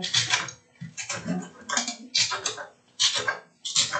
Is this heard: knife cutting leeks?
yes